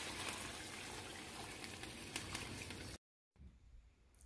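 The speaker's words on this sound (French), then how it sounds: "je vais verser 2 litres d'eau chaude" Two litres of hot water pour steadily into a pot of soup, a loud continuous gushing splash lasting about three seconds before stopping abruptly, followed by quiet room sound.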